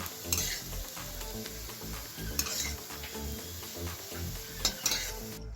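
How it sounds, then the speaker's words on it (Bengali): Beans and carrots fry in a pan with a steady sizzle, broken by rhythmic stirring scrapes and a few sharp clinks of a utensil against the pan, with no talking. "বিনস আর গাজরটা খুব ভালো করে ভাজা হয়ে গেছে"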